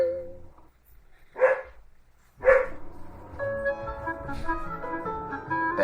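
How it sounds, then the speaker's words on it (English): Police dog barking in a small-town setting, two sharp separate barks, then a steady musical backdrop continues underneath. "Knappville's police department bought a police dog named Gloria"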